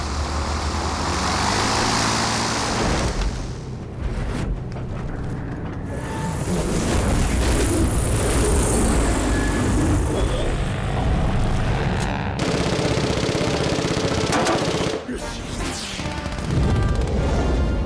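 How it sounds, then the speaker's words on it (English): Anime aerial battle with roaring aircraft engines and heavy artillery blasts, a loud, continuous barrage of rumbling thrust and crashing explosions that shifts and surges throughout. "I can't listen to the lifelike way these engines and artillery blast in my ears"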